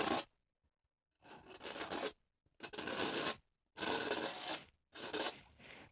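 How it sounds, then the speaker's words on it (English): A painting knife's short edge scrapes oil paint off canvas in four rasping strokes, each close and gritty, separated by brief silences. "I'm going to use this short edge of my knife. And we're just going to take it right at this line. And we're going to scrape that out."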